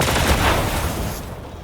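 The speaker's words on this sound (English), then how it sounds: "See what happens is if I shoot the barrels," Rapid gunfire in a video game strikes explosive barrels, a dense loud burst of overlapping shots and blasts that tails off quickly.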